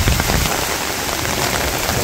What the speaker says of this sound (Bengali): ঝড় বৃষ্টি শুরু হয়ে গেছে, প্রচুর বাতাস।